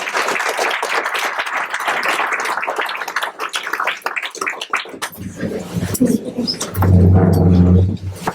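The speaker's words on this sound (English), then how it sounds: "Would you please give Jen a round of applause?" Applause at a political forum in Lakeview breaks out as a burst of dense, close clapping for several seconds, then thins to scattered claps with some low background sounds and brief voices.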